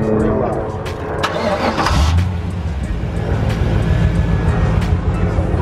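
A Lamborghini Aventador with new manifolds starts up, its engine catching and settling into a loud, steady idle close by, with background noise and voices around it.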